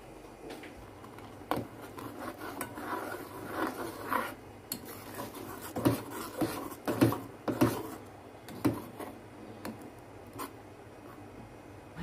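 A spoon scrapes and taps faintly through poppy seed paste frying in oil in a pan, giving a scatter of light, irregular ticks over a quiet background.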